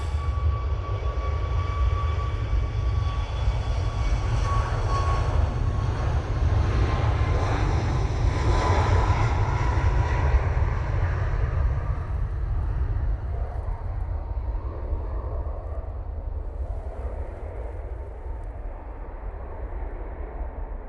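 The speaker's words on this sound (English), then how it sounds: "Ryanair now on the roll." Ryanair Boeing 737 MAX 8 on its takeoff roll at Manchester Airport, a loud, steady jet engine roar with a rising whine that holds strong throughout, then slowly thins as the aircraft pulls away.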